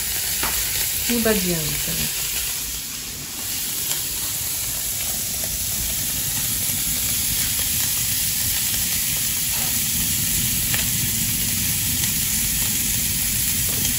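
Bacon frying on a wood-fired stove makes a constant loud sizzle and hiss, close and unbroken. A person speaks briefly near the start.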